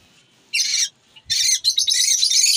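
A lovebird chirps and squawks in short, bright bursts up close as it is released into a colony aviary. A single call is followed by a pause, then a denser run of chattering calls, with soft handling noises and no talk.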